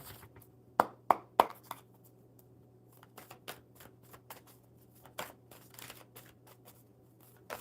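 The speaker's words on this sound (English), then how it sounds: "All right, one more good shuffle, Sonakshi." Enchanted map oracle cards being shuffled by hand, several sharp riffling snaps early on followed by softer, irregular card flicks and rustles, close and quiet.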